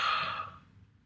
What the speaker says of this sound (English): And I'm going to breathe onto this.